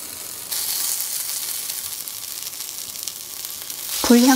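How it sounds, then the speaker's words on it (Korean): Tomatoes sear in hot oil in a pan, a bright hissing sizzle that jumps up suddenly and holds steady at close range, ending with a brief clatter and a short voice. "앞뒤로 오일을 코팅하면서 구우세요."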